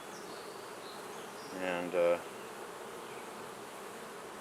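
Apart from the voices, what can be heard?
honey bees buzzing around a hive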